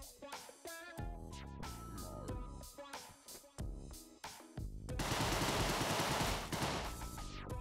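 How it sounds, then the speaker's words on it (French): Rapid Tommy Gun bursts from the video game Deadbolt, a fast machine-gun rattle with repeated sharp reports, building into a loud, dense sustained volley toward the end, with no talking. "On va remplacer mon revolver par un Tommy Gun."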